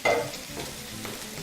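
Well-cooked bacon with rendered fat frying in a pan, a brief scrape of a utensil at the start over a steady, moderately quiet sizzle.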